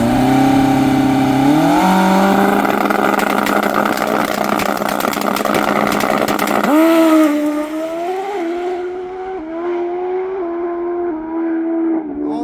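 A turbocharged Suzuki GSX-R 1000 motorcycle engine screams loudly as it makes a pass, revving up through gears with sharp pitch rises, then dropping away and fading as it pulls into the distance.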